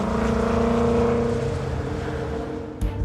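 Mercedes-Benz 300 SLR racing engine, with a long inlet manifold and short, nearly unmuffled exhaust, held at high revs: a loud, sustained harsh drone with steady harmonic tones that eases slightly before a brief blip near the end.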